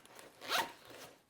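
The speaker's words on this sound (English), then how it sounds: "God, those zippers are smooth." A zipper on an EDC kit pouch is drawn open in one quick, smooth pull, close and crisp, with no talking.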